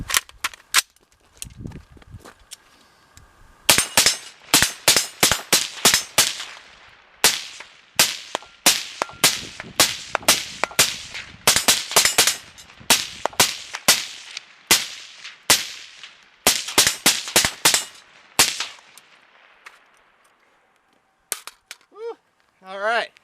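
Suppressed gunfire from an M402 rifle fitted with a vinyl-wrapped Stalkland suppressor, a long string of sharp cracking shots in uneven bursts and singles, loud and close, tapering off toward the end.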